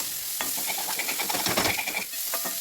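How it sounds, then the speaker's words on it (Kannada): Cauliflower frying in a pan in a home kitchen, with a steady loud sizzle and scraping stirring strokes close up, no talking. "ಗೋಬಿ ಹಾಕ್ಕೊಂಡು ಫ್ರೈ ಮಾಡ್ಕೊಂಡು"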